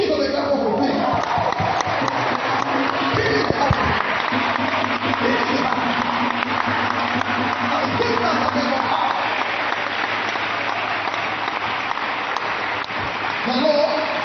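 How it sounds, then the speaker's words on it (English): A church congregation claps in praise of Jesus during a sermon, a long, dense wash of applause with scattered cheers and voices, steady and full throughout. "Give Jesus a clap of praise."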